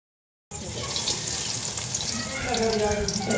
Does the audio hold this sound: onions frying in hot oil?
yes